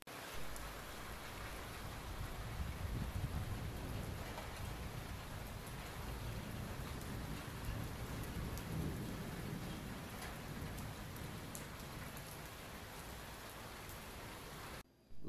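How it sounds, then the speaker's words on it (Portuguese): A heavy thunderstorm outside brings steady, dense rain beating on surfaces, with low thunder rumbling underneath, a continuous wash of sound lasting about fifteen seconds and cut off abruptly at the end. "A tormenta se avizinha."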